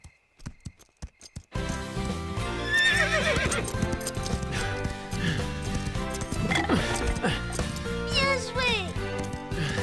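A horse whinnies and its hooves clip-clop during riding training for a jumping obstacle, sounding close and steady beneath continuous music and animated-cartoon sound effects.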